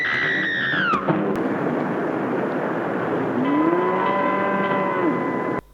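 Cattle low in a 1954 sci-fi film, Monster from the Ocean Floor: a loud, drawn-out moo cuts off after a second, then a second long, wavering moo rises later over a steady background rumble.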